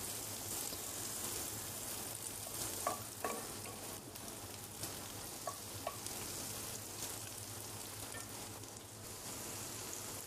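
Onions and peppers frying in a pan for chicken fajita, a steady close sizzle with occasional faint clicks from stirring, continuous throughout with no talking.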